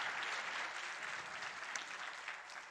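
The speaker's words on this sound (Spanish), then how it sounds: "Le demos, por favor, un aplauso a Icía" A conference audience at a cybersecurity event applauds a speaker being welcomed to the stage, a continuous, even wash of many hands clapping, fairly distant and soft, running through the whole moment with no voices.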